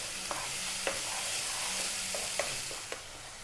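Tomatoes with chilli, cumin and garam masala cook down in a pan with a soft, steady sizzle, punctuated by a few light spoon taps and scrapes of stirring.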